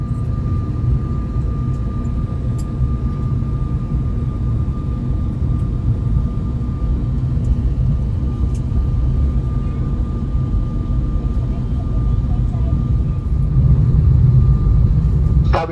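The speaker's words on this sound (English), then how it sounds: "we had to backtrack on runway 30 and taxi all the way to the other end of the runway" Cabin view aboard a Cebu Pacific airliner backtracking along runway 30 at Butuan, a steady low engine rumble with a faint hum, swelling slightly near the end.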